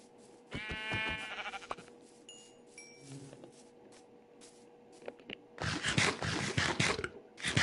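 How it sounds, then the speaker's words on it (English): Minecraft sheep bleat twice in quick succession near the start, followed by faint game sounds and then a burst of scraping, shuffling noise toward the end. "Let's get as many sheep as possible."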